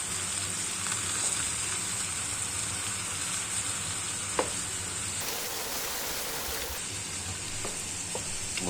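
Pieces of beef for a bourguignon brown gently in a pan, giving a steady close sizzle and crackle with a brief louder hiss partway through and a few soft clinks of stirring.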